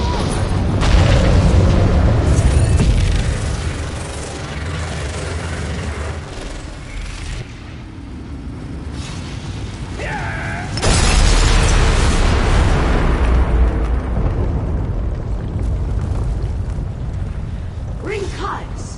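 A core is destroyed in Elder Scrolls Online, setting off loud booming explosions and bursts with a heavy rumble, alongside speech and game effects.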